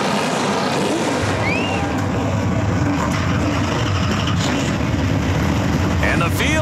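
NASCAR Pinty's Series stock cars firing their engines together before the Fall Brawl season finale at Jukasa Motor Speedway, a loud, dense, steady rumble of many engines with crowd and announcer voices over it.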